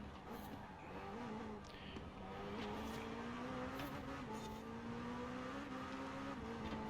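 Upgraded Senna car in a racing video game, its engine note rising and shifting steadily at moderate volume, with brief higher whooshes over a continuous drone.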